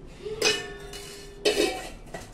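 A spoon clinks against a kadhai while a spoonful of ghee goes in for dry fruit modak: two or three short metallic knocks with a faint ringing tone between them, close and fairly quiet.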